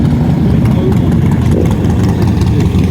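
A KTM motorcycle engine rumbles steadily at a drag racing strip during bike night, a loud, continuous low idle with crowd and track noise around it.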